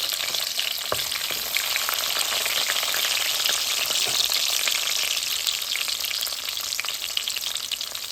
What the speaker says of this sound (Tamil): பூண்டு எண்ணெய்க்கு பூண்டை போட்டு கொய்ய விட்டா கொலஸ்ட்ரால் இருக்காது